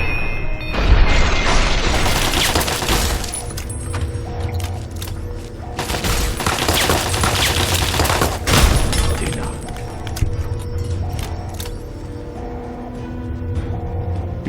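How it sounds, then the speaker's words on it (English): Turret gunfire in the Portal video game rattles in dense bursts of rapid shots, loud and close with mechanical clatter, while a voice speaks over it. "I'm shooting you."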